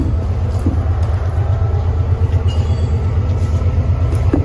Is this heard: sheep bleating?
no